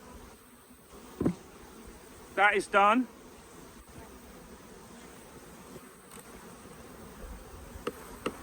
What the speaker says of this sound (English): Nice lot of bees in here.